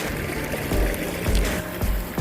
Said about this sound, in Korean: 어디선가 물소리가 들려요.